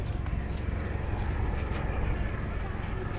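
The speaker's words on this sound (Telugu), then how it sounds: "చూడండి హెలికాప్టర్ అయితే పైకి వస్తుంది" A helicopter passes overhead at the Araku winter festival, a continuous loud roar of engine and rotor with faint pulsing, steady throughout and with no clear break.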